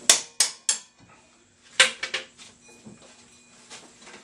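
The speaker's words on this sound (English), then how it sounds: "And the impact from the other wrench is all I need to loosen the bolt." Back of one wrench striking another to loosen a bolt on an Inferno clutch: three sharp metallic clanks in quick succession, a pause, then another cluster of ringing hits with faint decaying ring, close and alone.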